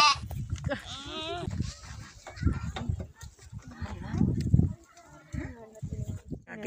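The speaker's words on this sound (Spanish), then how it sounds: "¿Cómo hace la cabra?" A goat bleats in wavering, quavering calls near the start, with adults and someone talking over farmyard noise before and after.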